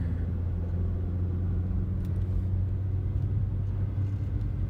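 Car engine in third gear on a drive along mountain road 226A, a steady low rumble filling the cabin, continuous and moderately loud with no clear shift break.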